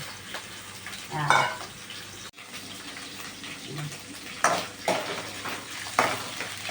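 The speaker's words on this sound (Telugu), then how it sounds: "తర్వాత ఇవి కొంచెం లైట్గా వేయించుకొని పక్కన పెట్టుకోవాలి" Ingredients fry lightly in oil in a pan on a stove while a gongura chutney is prepared, giving a steady close sizzle with a few louder bursts and scrapes of stirring.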